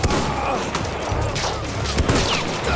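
Rapid bursts of submachine gun fire in the World War I shooter game Battlefield 1, a dense, loud, continuous clatter of shots with explosions and battlefield noise layered underneath, a voice briefly heard.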